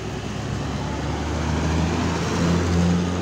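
A city bus arriving via the toll road at Purabaya (Bungurasih) bus terminal in Surabaya, its engine a loud, steady low rumble that swells slightly toward the end amid surrounding traffic noise.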